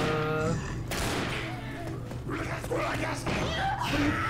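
Gunfire bursts from the zombie shooter game Left 4 Dead, crackling shots mixed with thuds and game noise, heard under overlapping players' voices talking.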